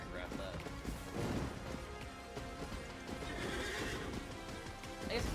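In a medieval combat video game, a knight's horse whinnies loudly, with hoof clip-clops and a few sharp impacts mixed in during the fight.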